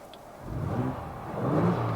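A Ford Bronco Raptor engine in Baja mode revs up twice from idle, a low rumbling surge rising and settling, fairly close and moderately loud.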